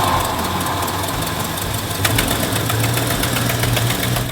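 A Ford Mustang engine runs steadily after a fuel pump replacement, a continuous mid-pitched drone with a faint knocking edge throughout, close and fairly loud, with no voices.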